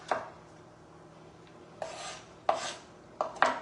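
A knife cuts red onion into small pieces on a board, making a few scattered, brisk rasping strokes with quiet pauses between them, close by.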